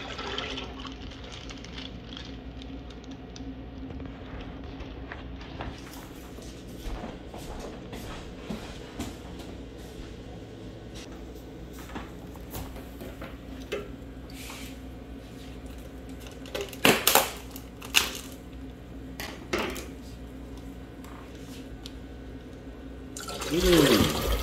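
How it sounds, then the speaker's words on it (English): Water poured and sloshing into a fish acclimation container, a continuous gurgling flow running for many seconds with a few louder splashes and knocks near the end, close by. "And I add a cup of water."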